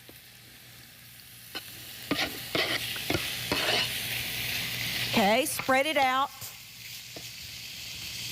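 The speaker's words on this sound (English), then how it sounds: "You wanna hear that sizzle." Pork sizzles and crackles steadily in a hot skillet, with a few scraping stirs and a short spoken remark over the frying.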